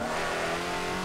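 A hypercar engine in the racing game Forza 7 revs hard in a short, steady, loud burst, a continuous mid-pitched engine whine with no talk over it.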